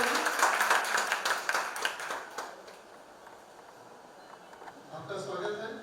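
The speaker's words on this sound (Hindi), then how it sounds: "एक बार जोरदार तालियों से स्वागत करेंगे।" Audience at a Hindi book launch and poetry gathering claps to welcome a poet: a dense burst of clapping, fairly close and strongest at the start, fading after about three seconds, with a voice faintly under it near the end.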